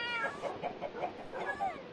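A cat in the Minecraft video game meows in a quick run of short, close, repeated mews, with faint clucking from nearby chickens and no one talking.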